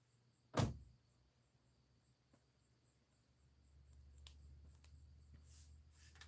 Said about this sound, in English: you're gonna hear the truck door shut